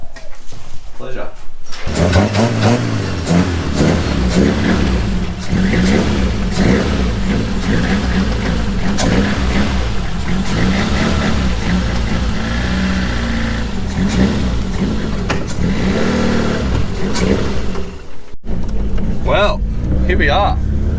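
A Toyota 4AGE EFI engine running rough with no cold start and the idle turned right down, a loud close uneven idle with a stumbling beat, and voices talking over it throughout.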